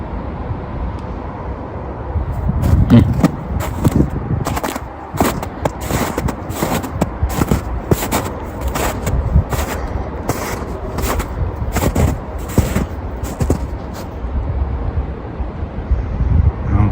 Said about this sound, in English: that freeway traffic is getting really loud